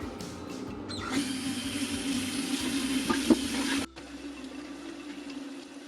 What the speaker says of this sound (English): We need to wash some vegetables. We have lettuce here.